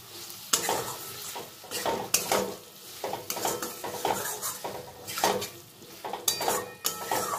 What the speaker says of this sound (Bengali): এবার সব কিছুর সঙ্গে একটু মিশিয়ে নেব মশলার সঙ্গে এগুলো।